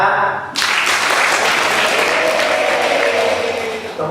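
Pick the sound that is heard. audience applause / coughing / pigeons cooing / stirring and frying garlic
audience applause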